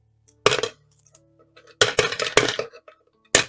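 Bursts of coins clinking and rattling into a piggy bank, dropped in three or four loud handfuls with brief pauses between, close by.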